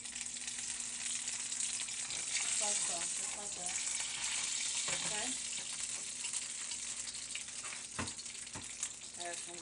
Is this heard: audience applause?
no